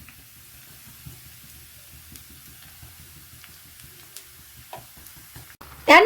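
Ginger garlic paste fries quietly with browned onion in a pan under a low, steady sizzle with faint stirring taps, ending in a sudden loud clatter.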